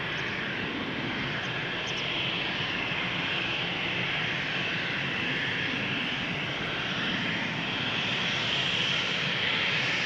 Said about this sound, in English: This is KLM Flight 1755 to Hamburg, Embraer 190.